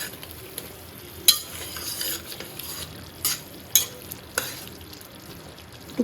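Meat with spices stir-fried in a pan in a home kitchen, a low background sizzle punctuated by sharp, irregular metallic scrapes and clacks of a utensil against the pan, without talk.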